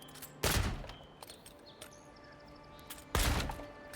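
Two heavy gunshot blasts from the video game Avowed, a few seconds apart, each a loud sharp crack with a short tail, over quiet game ambience with faint chirps.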